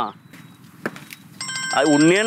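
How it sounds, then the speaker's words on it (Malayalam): A phone starts ringing partway through with a steady electronic tone that continues to the end. A voice speaks over the ring. "ഫോൺ അടിക്കുന്നു"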